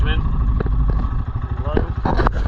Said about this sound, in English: Here's my throttle engagement.